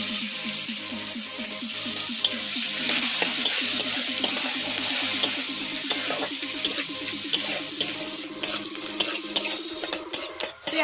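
Chopped onion drops into a pan with cumin seeds and frying oil, giving a bright, loud sizzle with rapid crackling pops and occasional stirring scrapes, close by with no speech.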